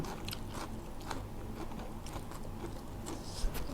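Close, crisp bites and chewing of crunchy food, eaten with spicy green papaya salad, sound as a string of faint, irregular crackles and crunches without talking over them.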